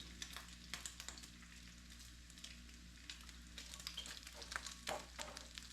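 Bacon crisping in a pan of its own grease, a steady broadband sizzle with small pops and crackles throughout, moderately close and continuous with no talking.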